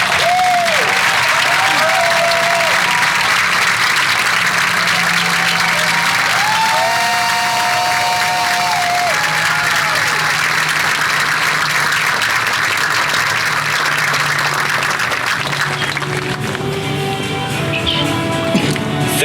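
Sustained crowd applause at a city's State of the City address honoring police officers, a long dense wash of clapping that stays loud throughout, with occasional cheers and a few tonal sounds above it.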